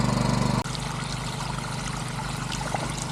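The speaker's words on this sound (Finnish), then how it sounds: "Siinäpä tulee ihan letkun täydellä vettä." A hose pours water out of a well pit at a worksite. A steady engine drone cuts off abruptly and is followed by a continuous rushing trickle close by.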